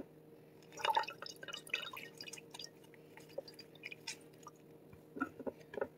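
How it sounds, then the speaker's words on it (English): Juice from a lemon squeezed by hand falls as faint, irregular drips and soft wet squelches, scattered close by in a quiet room. "I'm just taking out the juice out of the lemon"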